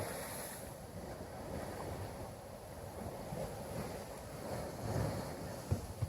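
Quiet surf washes in and out with a soft, continuous hiss, mixed with gusts of wind buffeting the microphone.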